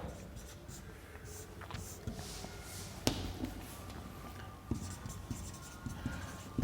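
Chalk or pen writing by hand during a Hindi science lesson on optical fibre, faint scratchy strokes with occasional taps and thuds in a quiet room.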